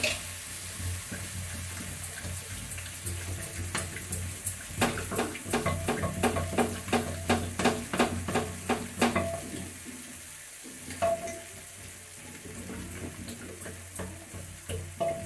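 Masala of spices and aromatics for a matar ke gade (nemona) curry sizzles and fries in a pot while a spoon repeatedly stirs and scrapes against the metal. The clatter is steady and close, with no talking.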